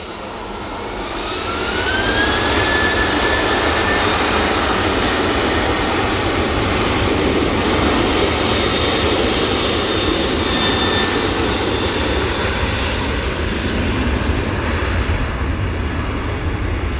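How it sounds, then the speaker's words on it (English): A Ryanair Boeing 737-800 takes off from Manchester Airport bound for Alicante, its jet engines swelling over the first two seconds into a loud, sustained close roar with a rising whine, staying powerful to the end with no voices. "And that Ryanair 737-800 is off to Alicante"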